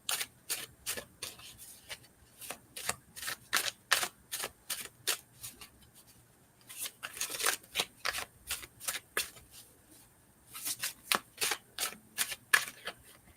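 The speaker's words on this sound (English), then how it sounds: "Just gonna shuffle a little bit before we split the deck." Cards are riffle-shuffled in several crisp, rapid bursts, each a flurry of flicking snaps, with short pauses between rounds.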